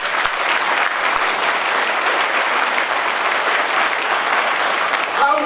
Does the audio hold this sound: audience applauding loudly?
yes